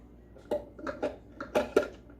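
Egg and mustard are mixed by hand in a food processor bowl for homemade mayonnaise: a handful of light, close clinks and scrapes of a utensil against the bowl at an irregular pace.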